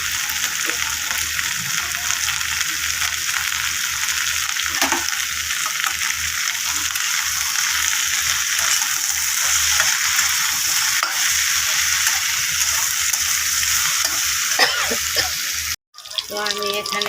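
Okra and onion frying together in a pan with salt and turmeric, a steady loud sizzle with stirring scrapes throughout and a brief break near the end.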